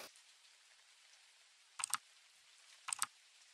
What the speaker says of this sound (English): I like that the keyboard makes sound now. They got a mechanical keyboard.